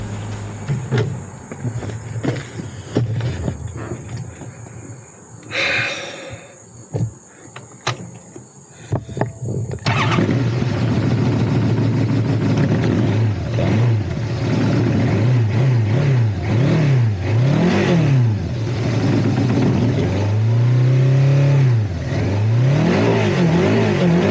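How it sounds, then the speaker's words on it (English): A four-cylinder car engine cranks and starts after some clunks and rattles, then runs loudly with several revs rising and falling, close by. "Bless this 4-cylinder engine."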